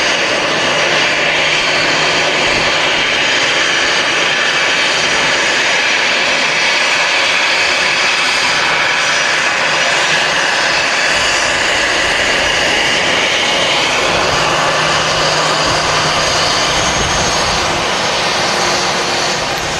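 Boeing 767 jet engines running at Manchester Airport, a loud, continuous broadband roar with a steady whine, powerful and sustained throughout, with no talking.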